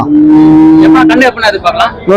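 A native-breed cow at a cattle market moos loudly and close, one long low call that breaks into a rougher, wavering bellow before fading.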